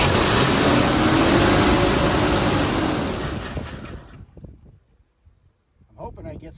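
A 1978 Jaguar XJS fitted with a Corvette engine runs loud and rough for about four seconds, then dies away to near silence before a brief sputter returns at the end.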